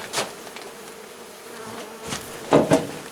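Honeybees buzz around a giant wild nest being rescued at a château, a steady close drone with a few louder passes as individual bees fly near, no talking.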